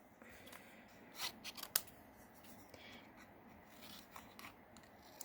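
Scissors fussy cutting card paper around a stamped image for a foldable card, faint close snips and rustling paper, with a few crisper cuts clustered early on and soft handling after.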